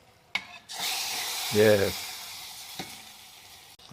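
Mustard seeds, cumin, curry leaves, dried red chilli and asafoetida tempering hit hot tomato rasam with a loud, close sizzle that flares sharply, then settles into a steady frying hiss that slowly fades, with a brief voice near the start.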